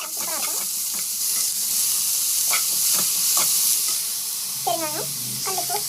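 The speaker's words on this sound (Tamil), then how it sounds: "பெருங்காயம், கல்லுப்பு நல்லா வதக்கிக்கோங்க." Carrot, onion, chana dal, green chili and spices sautéing in a pan with asafoetida and rock salt, a steady broadband sizzle with scraping stirs throughout and brief bits of a voice speaking now and then.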